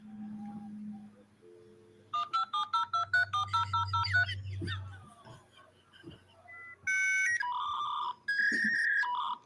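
Old dial-up internet modem connecting over a phone line: a dial tone, a rapid run of dialing tones, then shifting high handshake squeals and warbling beeps, loud and alone with no talk.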